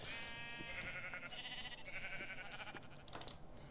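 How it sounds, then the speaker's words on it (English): Sheep in Minecraft bleat in a few wavering calls, fairly close and moderately loud, over faint keyboard tapping, with no voices. "Hello, sheeps."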